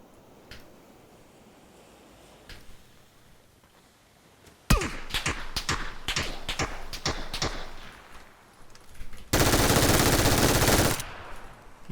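An MG3 machine gun firing at 990 rounds per minute in a video game, heard as a loud string of sharp shots followed by a dense continuous burst after a quiet stretch.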